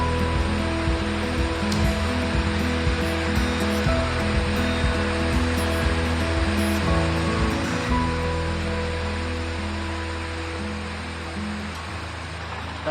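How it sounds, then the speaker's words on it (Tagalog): Binuang Falls in Santa Elena pours in a dense, continuous roar of falling water, loud and close, holding steady throughout with no voices over it. "Lapit tayo sa falls."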